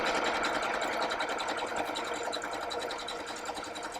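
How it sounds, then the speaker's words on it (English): A sewing machine stitches applique fabric in a steady rapid mechanical chatter, running close and continuous with no voices, then easing slightly near the end. "And then we'll stitch to the corner."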